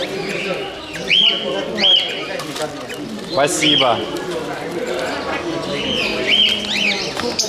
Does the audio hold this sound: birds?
yes